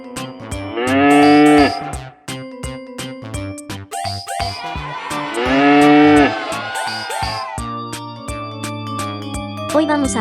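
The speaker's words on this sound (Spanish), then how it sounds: "Hoy vamos a aprender cómo se escribe y hace la vaca." A cow moos twice, loud and drawn out, over a steady musical backing with plucked and sustained tones.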